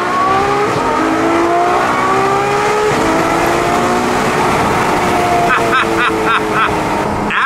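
A naturally aspirated Ferrari V12 engine roars loudly and close by, its pitch rising and falling through revs, with some voices mixed in over the drone.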